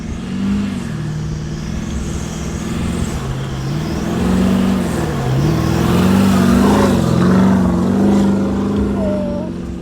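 A 4x4 car drives through soft sand on an Australian offroad trip while towing a caravan, its engine droning loud and steady with rising and falling revs throughout, close and continuous.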